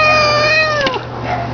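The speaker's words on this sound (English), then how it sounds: "he's a good kitty" A pet bobcat gives a single loud, drawn-out meow with a rising then falling tone, close up, ending in a brief rough yowl, with no talking.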